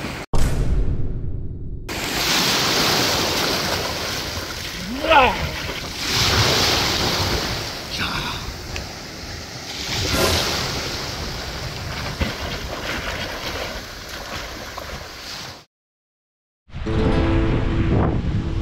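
Night surf at a beach on the coast of Spain, waves washing in as a loud continuous roar with surges and heavy wind buffeting the microphone, cutting out briefly near the end.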